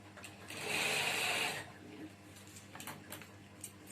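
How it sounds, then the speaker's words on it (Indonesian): A sewing machine stitches a fabric Quran cover in a short, steady whirring burst, loud and close, followed by quieter fabric handling and faint clicks. "Caranya tinggal kita ya gatukkan aja, terus kita jahit."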